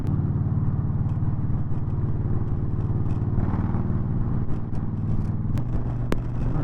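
A semi truck rolls alongside on the road shoulder, a steady loud engine and tire roar that stays close and constant throughout, with a brief clatter near the end.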